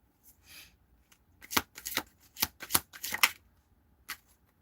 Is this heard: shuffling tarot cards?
yes